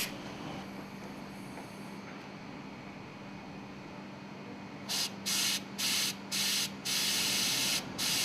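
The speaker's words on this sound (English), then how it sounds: "Clean the air cylinder with compressed air." Compressed air blasts into an air cylinder during an exhaust valve overhaul, five sharp bursts of hissing spray in a row after a quiet stretch of low workshop hum, the last burst lasting longer.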